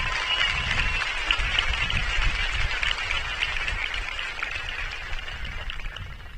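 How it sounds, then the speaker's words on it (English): A crowd at a high school graduation ceremony applauds steadily, a continuous, somewhat distant wash of clapping that holds at an even level without pause. "Let's give them a round of applause."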